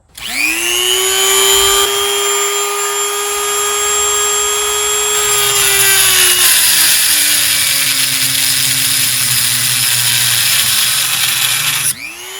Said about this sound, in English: I'm going to use a Dremel tool to cut that off because I got to get this clamp off the end as well as the boot itself